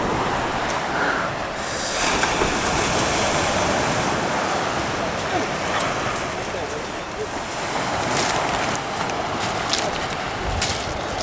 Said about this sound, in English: this is the Motu River